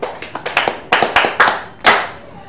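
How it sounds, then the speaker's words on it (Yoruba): Hands clapping in applause at a Yoruba gathering, a series of sharp, uneven claps in quick bursts, close and fairly loud, with no voices over them. "Ẹ pàtẹ́wọ́ fún un."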